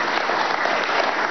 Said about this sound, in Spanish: le damos un aplauso a Evo Morales Ayma